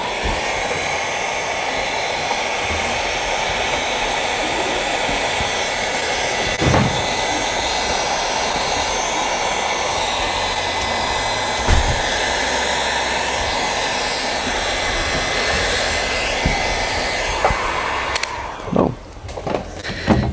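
A heat gun blows hot air onto a Havoc hood stamp on a 2024-plus Toyota Tacoma or 4Runner hood, a steady, loud whooshing hum that runs unbroken for most of the span before cutting off near the end.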